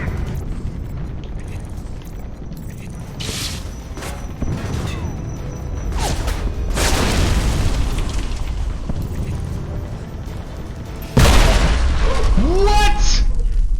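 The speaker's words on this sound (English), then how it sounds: "There was no grenade indicator. It just blew up because it can." Grenade explosion in a video game: a loud broadband blast bursts in near the end over steady game noise and earlier scattered bangs, followed by ringing, chirping effects.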